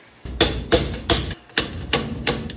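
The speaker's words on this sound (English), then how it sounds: "So, back to the slide hammer." A slide hammer striking repeatedly while pulling on a Coleman trailer axle part during a teardown, six loud metallic impacts at a steady rhythm, close and with no talking.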